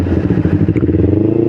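A Kawasaki Ninja 250 FI, nearly ten years old, idles roughly with a steady engine drone and a dense run of light ticking and clattering close by, alone and continuous.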